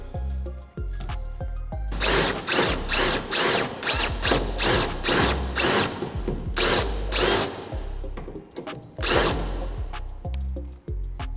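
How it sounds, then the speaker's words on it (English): A power drill whirs in a series of short bursts, drilling out bolts on a Honda Integra DC2 Type R, with pauses between and metallic clicks, close by and fairly loud. "We're ready to drill them out now"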